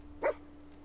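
A single short, quiet bark from a companion dog in the video game Fallout 4, sounding alone over a faint steady hum.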